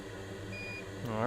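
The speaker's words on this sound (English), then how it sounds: "Alright, we have a beep." Short electronic beep from a multimeter in continuity mode, probed with tweezers on a MacBook Pro A1466 logic board with a dead CPU; one steady tone in the middle of the clip over background hum.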